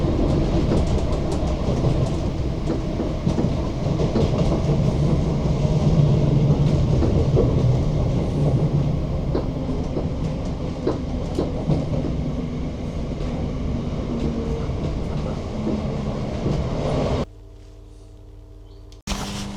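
Passenger train on the Glasgow Central to Paisley Canal line, heard from inside as a loud continuous rumble with rattling and wheel noise, which drops away abruptly near the end to a quieter hum.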